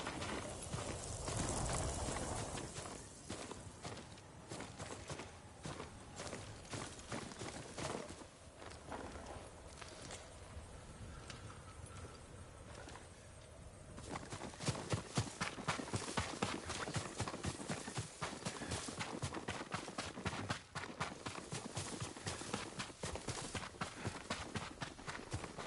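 Hooves clip-clop in a steady rhythm across a long stretch, quickening into a faster, louder gallop partway through, with no voices, in Ghost of Tsushima.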